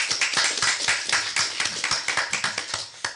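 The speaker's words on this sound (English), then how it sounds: "A round of applause for Dr. David Lehman." An audience at a debate applauds with dense, rapid clapping that keeps up an even crackle, a fairly close and steady round of applause with no speech.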